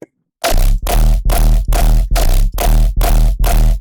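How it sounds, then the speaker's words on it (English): Deep sub bass pulses with a hissing noise layer on top, hitting in seven even, sustained bursts after a brief silence. "The first layer is the sub and noise essentially."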